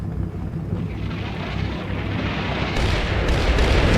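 Artillery shells fall during a Combat Mission battle, a continuous loud rumbling roar of impacts and explosions that swells and grows louder toward the end.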